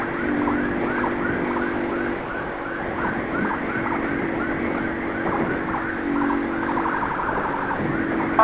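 An ambulance siren wails in repeating rising-and-falling sweeps, loud and sustained, with road noise underneath, heard while motorcycles escort it toward a hospital.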